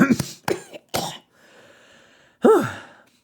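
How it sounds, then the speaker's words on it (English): Several harsh coughs and throat-clearing bursts close to the microphone, a short pause with a faint breath, then one more cough. "I'm very sorry about that cough."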